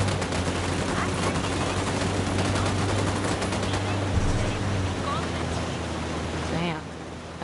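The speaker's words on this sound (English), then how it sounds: "Opening fire." Rapid gunfire in a video game set at a rebel-held sandbagged outpost: dense, continuous bursts of shots fill the whole stretch at high level, with no pauses and no clear voices over them.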